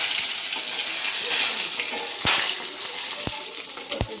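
Dried red chillies and bay leaves fry in hot oil in a wok, a steady close sizzle with a few sharp spatula clinks against the metal and no voices.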